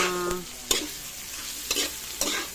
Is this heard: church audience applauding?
no